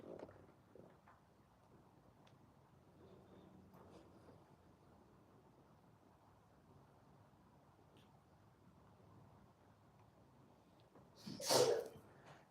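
A single sharp sneeze bursts out near the end, close and loud, after a long stretch of quiet room tone with faint rustling and soft breathing.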